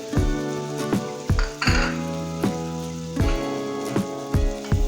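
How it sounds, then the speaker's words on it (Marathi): Roasted onion and coconut masala frying in oil for a traditional besan dumpling amti, with a close sizzle broken by repeated clinks of a spoon against the pan at a steady rhythm. "हा बघा आपला मसाला आता तेलात छान परतला गेलाय"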